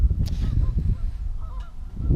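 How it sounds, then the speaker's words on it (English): Geese honk a few times in the distance over a low, steady outdoor rumble, with no one speaking. "we got the geese in the background, man."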